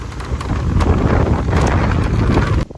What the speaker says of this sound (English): now the sky is dark and the wind is getting stronger